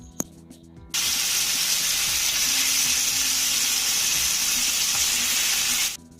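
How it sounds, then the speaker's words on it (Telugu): Guligindhalu fish pieces dropped into hot oil, bursting into a loud, steady, close sizzle that holds for about five seconds and then cuts off abruptly. "ఇప్పుడు ఒక్కొక్క చేప తీసి ఆయిల్లో వేసుకుందామండి"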